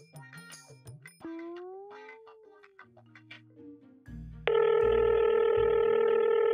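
A steady electronic ringback tone starts partway through, loud and continuous, after some brief tonal beeps and murmuring at the start.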